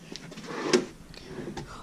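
A single soft knock or slide of an empty drawer in a small bedroom, heard once mid-clip against a quiet room hush.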